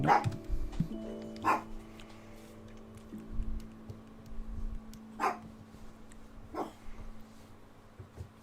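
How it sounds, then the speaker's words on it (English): A pet dog named Mifa barks indoors in a few sharp separate bursts spread over several seconds, with quiet gaps and faint clicking like keyboard typing in between. "Really not quite sure what Mifa's barking at."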